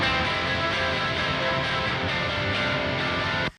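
Layered clean and distorted electric guitar amps in a band-style tone, left unprocessed, play a dense, loud, continuous wall of strummed chords that stops abruptly at the end.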